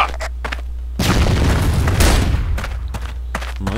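A loud grenade blast in the shooter game CrossFire erupts after a few sharp clicks, followed by a second heavy boom and a rumbling tail fading into scattered pops.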